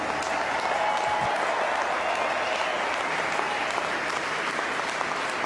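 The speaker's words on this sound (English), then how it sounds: "how about another round of applause for these two amazing champions?" Steady, dense applause from a large audience fills a professional tennis tournament ceremony in Cincinnati, holding at an even level throughout without any break.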